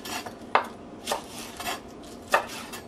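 A knife slicing a leafy vegetable on the diagonal against a cutting board, separating leaf from core. Three or four crisp, close chops are spaced unevenly, with quieter scraping between them and nobody speaking.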